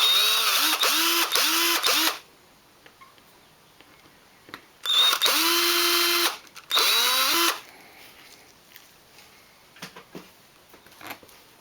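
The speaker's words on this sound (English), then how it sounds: "drill a couple of holes through" A power drill whines loudly in three bursts, drilling holes for vents in a Nissan N13 Sunny Pulsar parcel shelf, running steadily for a couple of seconds each, with quiet pauses and faint handling noises between.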